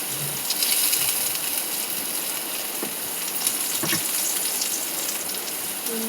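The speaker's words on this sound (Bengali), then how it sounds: "সব ভাজা করে নিয়েছি, আলু ফালু ভাজা হয়ে গেছে, এটা একটু লাল লাল করে ভাজা হোক" Potatoes and pointed gourd frying in a pan, giving a steady, even sizzle that holds at moderate loudness throughout, with only a few faint clicks and no talk.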